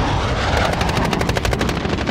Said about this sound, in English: Friendly VTOL jet on station.